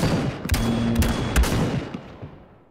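Gunfire from a sniper rifle in the video game XLR: a couple of loud, close sharp blasts in quick succession with ringing tails that fade out.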